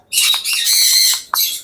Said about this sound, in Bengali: ময়না ময়না মিটু কথা বলো